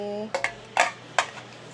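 Pots and pans pulled out in a home kitchen for making biryani clatter in four sharp, separate knocks and clinks, close by, after a brief hum fades out.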